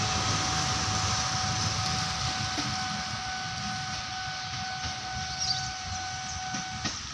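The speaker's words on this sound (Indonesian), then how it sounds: "Kereta KRL TM" Steady loud rumble and hiss of a KRL electric commuter train passing close by at Bukit Duri, Jakarta, with a faint high whine running throughout.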